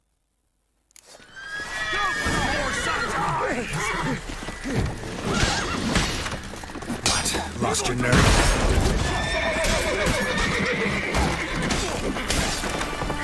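Horse whinnies and clip-clopping hooves in The Witcher 3, mixed with crashes and thuds of combat, loud and busy after a brief silence, with a voice speaking over the noise.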